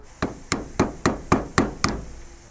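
Improvised hammering on a lawn mower on a farm, using a makeshift tool as a hammer: six sharp metallic knocks at a steady, even rhythm, close and fairly loud, each ringing briefly before the next.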